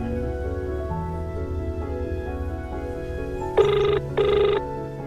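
A phone rings with an incoming call in two short, loud electronic bursts near the end, standing out over a steady background of music-like tones with no talk.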